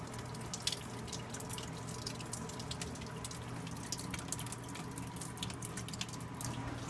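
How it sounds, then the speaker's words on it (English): Steady water dripping and splashing as it leaks through a ceiling light fixture, a continuous patter of drops falling onto surfaces nearby, with no voices. "it was like pouring water through the light fixture"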